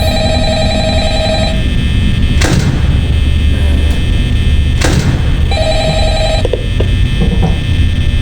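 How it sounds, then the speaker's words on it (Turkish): A telephone rings in the Five Nights at Freddy's video game, with repeated loud electronic bell trills separated by short pauses and a couple of thuds, with no talk. "Telefon sesi mu?"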